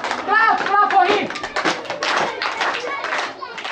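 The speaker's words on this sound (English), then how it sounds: "Clap for him!" Several people, including children, clap in a classroom, uneven bursts of hand claps mixed with close voices and some tapping, loud and near.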